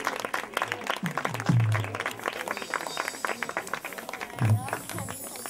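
An audience at a Christmas church service applauding to welcome a pastor onto the stage, with steady scattered clapping throughout, partly covered by a speaker's amplified voice.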